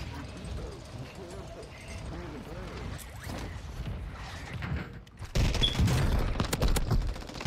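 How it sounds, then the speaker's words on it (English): Gunfire in a first-person shooter video game: bursts of shots crackle under someone talking, then a louder, denser volley of rapid shots breaks out near the end. "Now this gun don't put you down with two shots when you got no plates."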